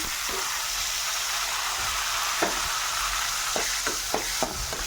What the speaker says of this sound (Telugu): వేసి నీట్గా వేయించుకోవాలి. బాగా మగ్గినంత వరకు వేయించుకోవాలి.